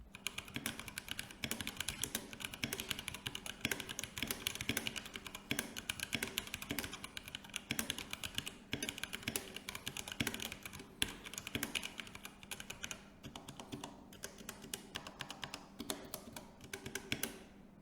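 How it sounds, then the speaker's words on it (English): Fast, continuous typing on a HyperX Alloy Origins 65 compact mechanical gaming keyboard with linear switches and floating keycaps, a dense close-up stream of crisp clacks and taps with no talking. "Since this has a floating keycap design, the sound travels more freely as there's no sound dampening foam around the switches."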